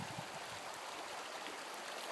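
Steady broadband rush of flowing water, like a creek running over rocks, continuous and fairly quiet with no voices.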